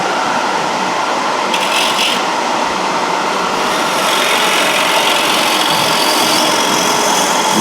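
A wood lathe turns a piece of wood against a chisel, giving a loud, continuous rough shearing and rushing that holds steady throughout without pause.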